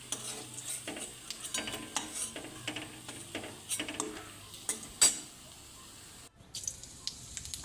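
Panch phoron and bay leaf sizzle in hot oil in a pan after koi fish were fried, with repeated scraping strokes of a spoon stirring at a close distance and a quiet, even sizzle beneath.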